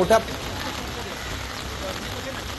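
Heavy rain over Mumbai at the Worli Sea Link, a steady hiss of falling water with a brief knock at the start and no distinct voices.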